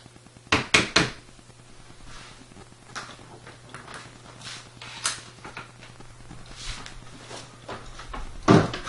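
A wooden door being hung on its jamb is swung and closed a few times, giving soft knocks and clunks, a cluster near the start and another near the end, with quiet handling noises between.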